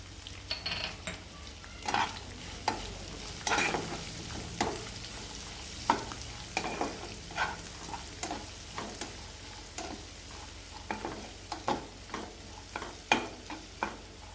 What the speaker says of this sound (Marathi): त्याच्यामध्ये आपण दोन कट करून घेतलेले कांदे कांदे टाकून घेणार हवे त्या कांद्याने हळद टाकून घेणार आहोत